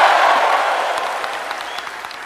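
Applause from a large crowd at a political rally, loud at first and then slowly fading to a thinner scatter of claps as it trails off.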